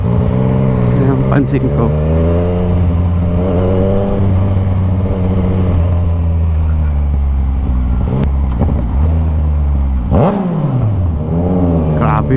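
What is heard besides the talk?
motorcycle engine revving with loud backfire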